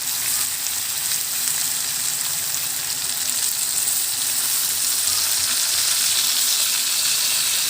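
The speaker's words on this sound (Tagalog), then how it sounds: "Lalagyan na natin ng toyo." Soy sauce hits a hot pan of chicken adobo and sends up a loud, continuous hissing sizzle that holds steady throughout, with no talking.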